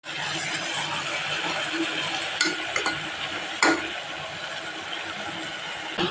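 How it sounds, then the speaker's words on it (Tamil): Chicken leg pieces sautéing in a pot, a loud continuous sizzle broken by a few sharp scrapes and clinks of a utensil against the pot. "சிக்கன் வந்து ஒரு 10 நிமிஷமாக வதங்குது"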